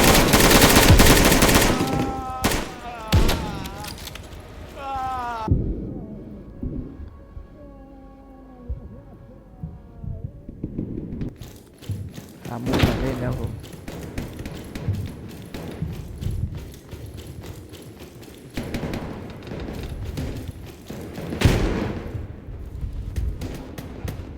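Gunfire in a shooting video game, loud bursts of rapid shots at the start and later, with a quieter stretch in between and a voice talking over the action.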